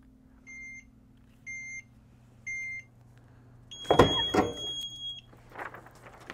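A heat press timer beeps three times in steady, evenly spaced tones while a low hum runs beneath, followed by a burst of handling noise and clatter.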